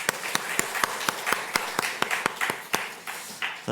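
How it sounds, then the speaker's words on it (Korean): A church congregation claps in a steady, rhythmic beat during a Sunday service, the claps fairly close and moderately loud, loosening into scattered clapping near the end. "격려 박수 한번 했으면 좋겠습니다"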